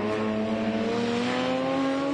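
BMW race car number 66, crewed by Bruce Stewart, Andrew Buist and Matthew O'Donnell, at the Hampton Downs 12 Hour endurance race: a loud, steady engine drone with a slowly rising pitch as the car accelerates close by.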